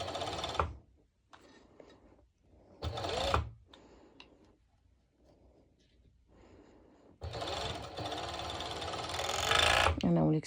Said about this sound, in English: I will be going back to my normal sew machine to secure this stitch